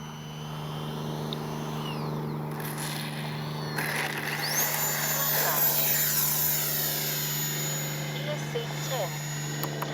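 An E-flite 64mm Viper RC electric ducted-fan jet flies past with its landing flaps fully down, a steady whining turbine-like drone that rises and sweeps as it passes, heard continuously over a constant background hum.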